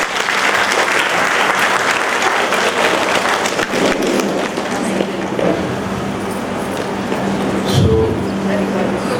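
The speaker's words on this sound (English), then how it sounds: "Please give a huge round of applause." Dense, sustained applause from an audience filling Jubilate Hall in Vasco at a birth anniversary gathering, a loud continuous wash of clapping that holds steady throughout, with a faint murmur of voices underneath.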